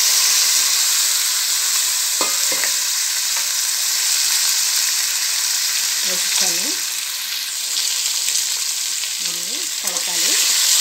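Vegetables for sambar fry in a pot with a loud, continuous close hiss and occasional stirring, and a faint voice surfaces briefly a couple of times.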